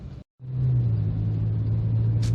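A car drives along an ordinary road in the UK, its steady low engine and tyre rumble filling the cabin after a brief silent cut at the start.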